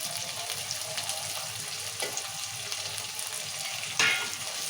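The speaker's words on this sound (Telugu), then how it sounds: "ఉల్లిగడ్డ టమాటా ఇట్లా మంచిగా వేగింది ఇప్పుడు కలేమాకు వేసుకున్నాము కొత్తిమీర కూడా వేసుకున్నాము" Onion, tomato, curry leaves and coriander fry in a pan for a masala eggplant curry, giving a steady, close sizzle with occasional stirring scrapes and one brief louder clatter near the end.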